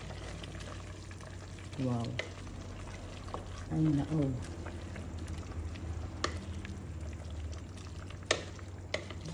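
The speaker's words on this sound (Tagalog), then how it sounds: "Haluin natin ulit." A spoon stirs a pot of soup with misua noodles, sotanghon and ground beef, faint clinks and liquid sloshing under a simmering bubble, while a voice exclaims briefly.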